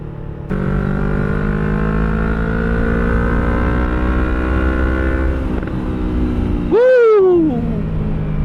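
A 2018 Yamaha R3 V1 motorcycle engine starts up, then holds a steady droning note for several seconds before a sharp rev rises and falls, heard close and loud on a test ride around Puerto Galera.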